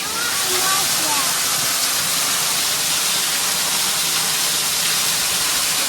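A waterfall on a hike in the Ouachitas roars as a loud, steady broadband rush that fills the whole clip without a break.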